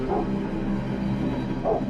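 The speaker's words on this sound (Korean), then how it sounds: "하지만 흥분한 개는 괴물을 향해 더욱 미친 듯이 짖어댑니다" An excited dog barks repeatedly and frantically at monsters in a scene from the horror movie The Silence, with loud, close yips and whimpers over a low rumbling background.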